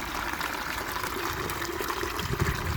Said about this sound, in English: so the water's coming out, here it goes